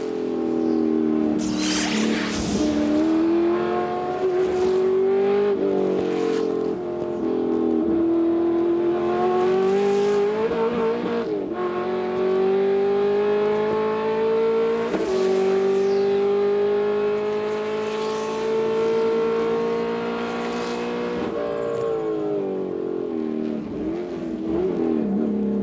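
Onboard with the 3R Racing Corvette GT race car at Sebring: a loud, continuous engine drone rises in pitch through each gear, then drops sharply at the shifts, repeating over and over with no speech.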